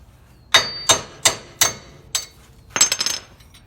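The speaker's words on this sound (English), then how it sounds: "by taking a hammer, we can go ahead and just start hitting the stud until we drive it all the way out" A hammer strikes a wheel stud to drive it out of a hub, with about six sharp metallic blows at a steady pace and then a rapid cluster of lighter taps, close and loud.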